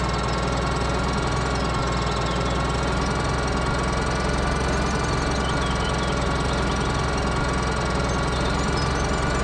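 A tractor engine runs steadily, a continuous low rumble with a dense, unchanging drone that holds loud and close throughout, with no voices.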